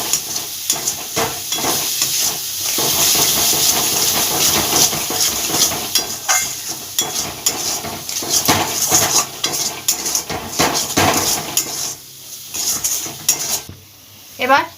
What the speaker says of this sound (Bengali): লবণ স্বাদ অনুযায়ী চিনি এবার ভালোভাবে মশলাটা কষিয়ে নিতে হবে